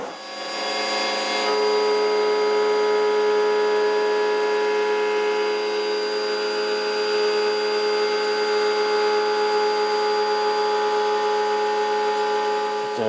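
A power tool whines steadily and loudly as it rounds over the back edge of a guitar body during a build, holding one even drone for several seconds with no voices.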